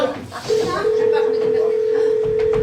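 A corded landline telephone goes off-hook, then a steady dial tone hums loudly at close range as people talk over it in French.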